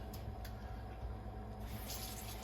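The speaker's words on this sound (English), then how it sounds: "I'm going to rinse." Water runs faintly and steadily from a tap while something is rinsed in a kitchen during Thanksgiving cooking in the dark, with a few soft splashes.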